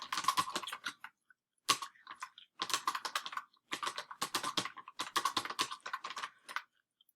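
Fast typing on a computer keyboard while writing a paragraph in a Word document, dense runs of close clicking keystrokes broken by short pauses, with no talking.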